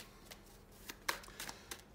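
Tarot cards being shuffled by hand, a run of quick papery riffles and slaps at close range, heard alone without speech.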